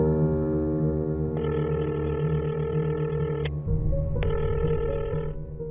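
A telephone rings unanswered, two long bursts of ringing tone separated by a short pause, heard over a steady background of sustained musical tones.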